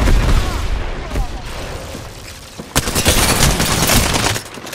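Bursts of gunfire in the battle royale game Apex Legends, a loud rapid volley after a quieter stretch of scattered shots and game noise, with a player's voice over it.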